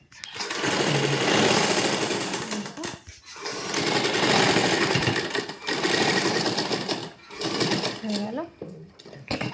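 A sewing machine stitches the seam of a gopi dress in three long, loud runs separated by short pauses, with some speech in the background.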